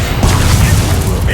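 A Confringo blasting spell goes off in Hogwarts Legacy, a loud booming explosion with a deep rumbling low end that fills the short moment, over game noise.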